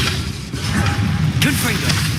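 Spells cast in Hogwarts Legacy, with a string of whooshing magical swishes and soft thumping impacts over a steady game soundscape, close and moderately loud, one sharper burst near the end.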